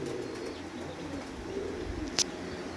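Breeder pigeons coo softly in a low, continuous murmur, with a short sharp chirp near the end.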